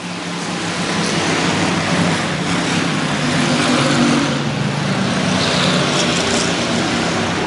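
Race cars in a Flatlander Special event on an oval track run together in a steady, loud engine roar that swells slightly as the pack passes, with no break across the clip.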